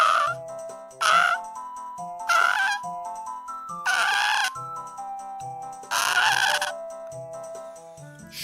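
A rooster from Zelda Ocarina of Time crows again and again, about five loud bursts in a regular rhythm. Soft, bright game music plays between the crows.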